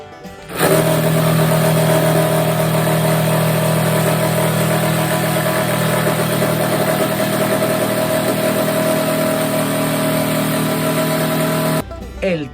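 A Volkswagen Kombi van engine runs steadily in a workshop during a check, a loud, constant idling drone with a low hum that starts abruptly and cuts off near the end.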